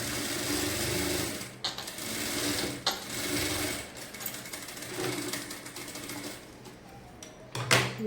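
Sewing machine stitching two pieces of fabric at a tailoring class, a fast mechanical whirring chatter in several runs broken by brief pauses and clicks, close and fairly loud.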